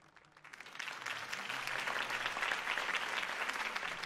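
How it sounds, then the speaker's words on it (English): Crowd applause after a political campaign speech in a Batman film scene, rising from a few claps into sustained, fairly distant clapping from a large audience. "If only Mr. Wayne, my campaign's largest backer, could have heard that applause"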